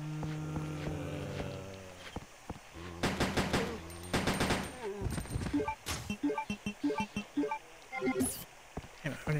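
Gunfire in the Resident Evil Code Veronica X video game, with bursts of rapid shots and sharp single reports over a droning game soundtrack, loud and close, with brief speech mixed in.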